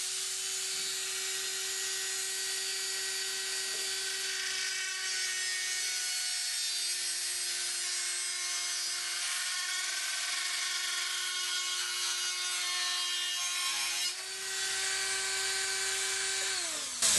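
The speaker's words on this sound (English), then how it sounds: "I'm simply using a Dremel type rotary tool with a cutoff wheel on the end" Dremel-type rotary tool with a cutoff wheel cutting a stainless steel hinge, a loud high steady whine held close for a long stretch, pitch dipping briefly under load near the end.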